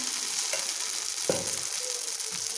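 Rice batter, two small ladles poured into an oiled, ghee-greased appam pan, giving a soft continuous sizzle with a few faint clinks and one sharper tap midway, no voices.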